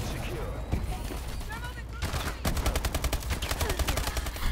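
Gunfire from a video game shooter fills the clip, a sustained run of rapid automatic shots that grows denser and more rhythmic toward the end, heard over a busy background of game sounds.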